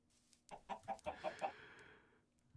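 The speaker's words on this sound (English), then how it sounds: "Don't make me kill the chickens." Minecraft chickens clucking in the video game, a quick run of about six rhythmic clucks close together, faint and alone, with a brief quiet tail afterward.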